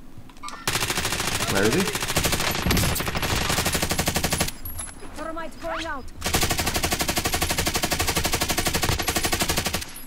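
Stoner and custom Bullfrog automatic fire in Warzone, loud and sustained in long rapid bursts with a short pause between them, while a voice speaks briefly over the shooting.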